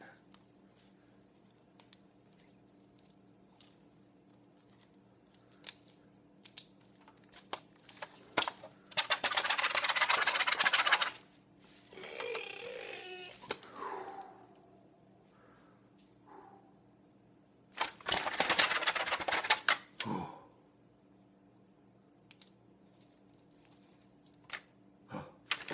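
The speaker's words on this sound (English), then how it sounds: "go ahead and write you a prescription" Pen scratching across paper to write a prescription in a medical roleplay, close and crisp scribbling in two longer bursts separated by quiet, with a few soft rustles and taps.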